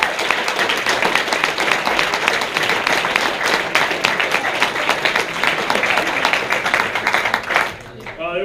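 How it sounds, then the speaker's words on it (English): Sustained audience applause at a 2017 Wooster fall sports awards ceremony: a dense, loud roar of many hands clapping at once that holds steady for about seven seconds, then cuts off sharply. "More clapping, better."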